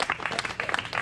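Guests at a party applaud together, a brisk ragged burst of clapping close by that fills the short moment.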